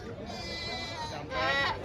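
Goats bleating close by at a Sunday goat market in Pileru, a wavering cry then a louder second bleat, with a voice in the background.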